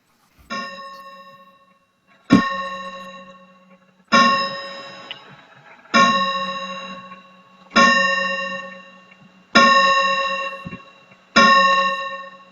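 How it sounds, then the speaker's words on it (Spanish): Bells chiming in a steady series of seven loud ringing strokes about two seconds apart, each bright strike decaying slowly under a faint low hum, with no talk. "Estoy esperando que paren las campanadas"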